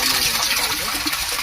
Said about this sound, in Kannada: ಒಳಗಡೆ ನೋಡಿ ನೀರು ಬರ್ತಾ ಇದೆ.